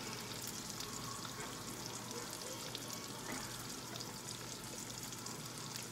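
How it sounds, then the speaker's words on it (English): Spinach sautéing in butter in a pan gives a steady, even sizzle throughout, close and continuous, with no talking over it. "just saute the spinach with butter"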